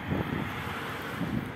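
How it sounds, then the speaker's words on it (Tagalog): Strong wind blows outdoors as someone rides a bike, a steady buffeting roar on the microphone with a couple of heavier low gusts and no voices. "Ang lakas-lakas ng hangin."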